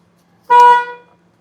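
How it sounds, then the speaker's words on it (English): A single short car horn honk, loud and close, sounded while a steering wheel is being deep cleaned, fading quickly into near silence. "I honked until I got a scare."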